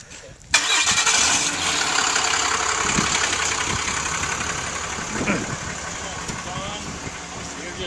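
A Kitfox light airplane's engine catches and keeps running: a sudden loud start followed by a steady, buzzing drone close by, with people talking faintly underneath.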